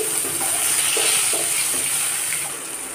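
Steady close sizzling of chopped tomatoes hitting hot oil, a bright continuous hiss with faint clinks of stirring underneath.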